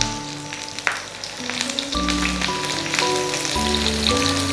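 Paneer packets wrapped in banana leaves fry in warm oil in a home kitchen, giving a steady close sizzle with soft crackles throughout and a faint tonal hum underneath.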